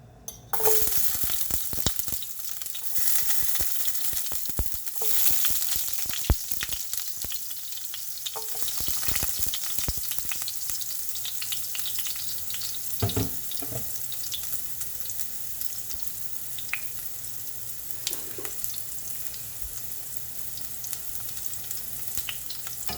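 Ginger and garlic frying in a pan for Jamaican-style beef kidney, a loud, steady sizzle with occasional stirring scrapes and pops running continuously for the whole stretch, no talking.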